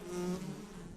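Worker bees buzz steadily around a nest in a woodpecker hole high in a Central European forest tree, a close, continuous drone with no voices.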